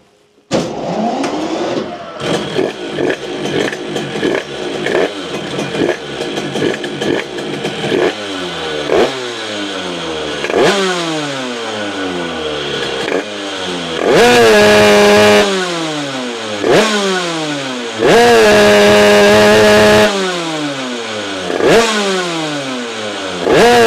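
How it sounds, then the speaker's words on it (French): A scooter engine with a Keihin PWK carburetor revs hard at full throttle again and again, each burst climbing in pitch then falling back, failing to reach top revs. Loud and close, with no talking. "quand j'accélère en grand, la machine, elle prend des tours, mais arriver tout en haut,"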